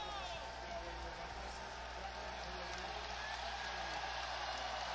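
NBA playoff arena crowd at a Minnesota Timberwolves vs Memphis Grizzlies game, a steady distant roar and murmur of fans rising to their feet, continuous at moderate level with a low hum underneath.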